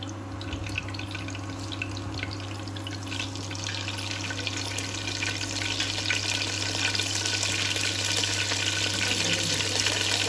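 Food frying in hot oil, a steady, dense crackling hiss that holds continuously and grows slightly louder toward the end, close and with no voices.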